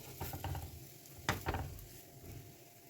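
A spring onion and garlic laccha paratha cooks on an old tawa with a soft, steady sizzle. A few sharp scraping clicks rise above it, one near the middle and the rest spread through, with no talking.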